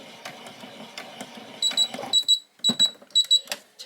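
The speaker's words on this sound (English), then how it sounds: "Take no notice, that's just my machine, it does that because it's an embroidery machine" Domestic embroidery machine stitching a doll's dress, heard up close as a dense mechanical rattle, followed by a series of short, sharp bursts in quick succession with a high metallic chatter and brief pauses between them.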